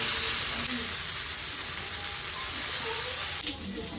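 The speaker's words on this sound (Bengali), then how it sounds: "আমি সুন্দর করে এপিট ওপিট করে আমি ভেজে নিচ্ছি।" Dhaba-style chicken turning in a pan of hot oil gives a continuous, fairly loud sizzle and crackle, close by, with a slight clatter near the end.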